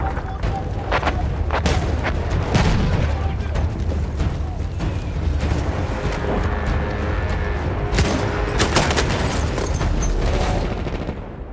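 Battlefield 1 artillery fire brings continuous booms and rumbling blasts mixed with scattered gunshots throughout, and voices speak faintly underneath.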